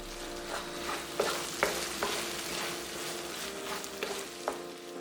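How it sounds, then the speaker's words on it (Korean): Canned tuna with its liquid and soy sauce stir-fried over medium-low heat, with several sharp scrapes and clicks of a utensil against the metal pan, close and fairly quiet. "참치캔 국물과 그대로 넣고 1분 정도 볶아서 불을 꺼줬다."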